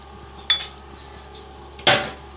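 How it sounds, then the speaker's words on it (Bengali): Eggs cracked one at a time for a pressure-cooker vanilla sponge cake, two sharp shell taps roughly a second apart, the second louder, with faint kitchen quiet in between. "এইভাবে আমি তিনটে ডিম ফাটিয়ে নেব"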